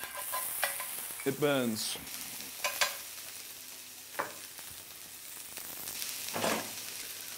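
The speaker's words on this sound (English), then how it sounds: "So when it is sizzling and popping and shouting and screaming, and that's what cooking is all about" Onions, ginger, chilies and garlic sizzle and pop in a pan, a soft steady frying hiss heard close with occasional clatter and a brief voice.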